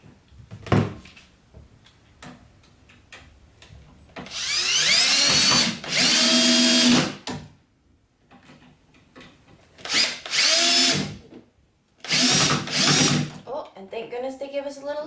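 A power drill drives screws into pre-drilled holes while a barn door is hung, in three loud whirring bursts with short pauses between them, amid faint handling knocks.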